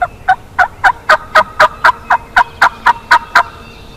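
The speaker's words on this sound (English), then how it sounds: "as it grew light, we heard our first gobble of the morning" Wild turkey gobbling from its roost, a loud, close burst of about fourteen rapid, evenly spaced gobble notes rattling out in quick succession against a quiet background.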